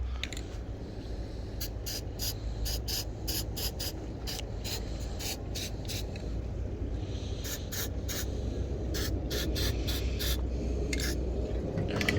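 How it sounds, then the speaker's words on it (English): Short hissing bursts of spray paint on a scooter part come in an uneven series, each lasting about a second, over a steady low background rumble. "A little bit of spray paint, good as new."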